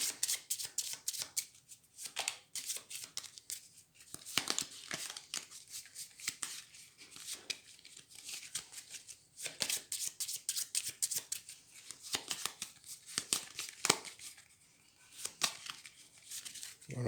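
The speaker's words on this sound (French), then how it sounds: "Donc je reprends mon hôpital, que je remélange." A deck of cards from the Goblivion board game reshuffled by hand, rapid riffling bursts up close, repeated several times with short pauses between.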